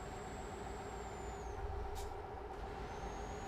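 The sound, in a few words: truck air brakes hissing in Euro Truck Simulator 2 video game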